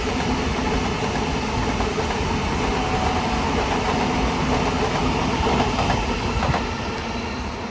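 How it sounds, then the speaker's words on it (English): NSW TrainLink intercity NIF train passing at Petersham during the morning peak, a loud sustained rumble of wheels and motors with rhythmic clatter close by, easing slightly toward the end. "And the final train type was the brand new intercity NIF train."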